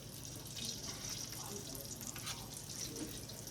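Croquettes cooking slowly in a pan give a steady, soft frying sizzle that holds even throughout, fairly quiet and close, with no talking.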